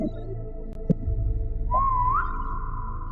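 Faint background noise, then a person whistles a short rising note that settles into a steady tone, near and fairly quiet.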